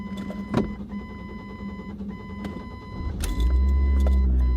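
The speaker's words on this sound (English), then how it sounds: "Starts up, yeah, a little hesitation, but it's an old car." An old car with fading hood paint is cranked through several short whirring starter pulses before its engine catches and settles into a loud, steady low idle in the final second or so.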